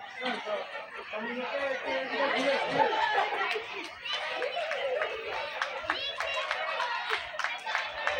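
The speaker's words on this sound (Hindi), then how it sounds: "इसके लिए जोरदार ताली होना चाहिए कि नहीं?" A crowd at a girls' high school event claps loudly and continuously, many hands building into dense applause mixed with chatter and some laughter throughout.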